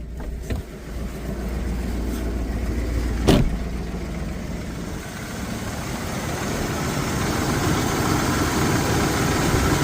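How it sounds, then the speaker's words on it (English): An old abandoned Dodge Ram truck's 5.7L Hemi V8 idles in a steady, close, low rumble, with a single sharp click partway through. "Good old Hemi engine."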